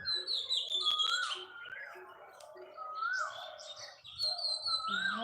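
Many birds chirping and calling at once, overlapping whistles and tweets in a busy chorus, fairly faint with short lulls.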